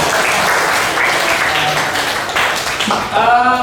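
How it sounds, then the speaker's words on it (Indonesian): Students in an Indonesian classroom clap together in a dense, steady burst that fills the whole stretch, with a few voices mixed in and a brief rise in volume at the end. "Tepuk tangan kita semangat."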